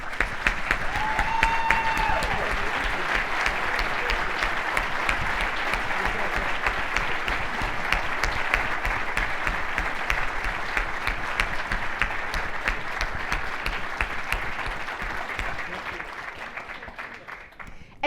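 An audience at a charity gala evening program applauds an honoree, sustained dense clapping that holds strong and steady for a long stretch before gradually thinning and fading at the end.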